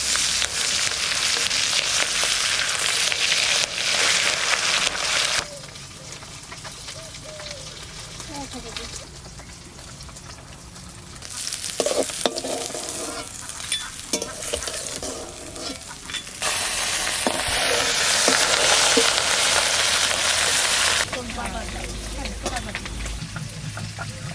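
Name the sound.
tangra fish frying in mustard oil in a wok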